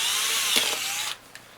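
A power drill bores a hole while building a SnapBow, whining steadily for about a second before cutting off abruptly, followed by a faint click.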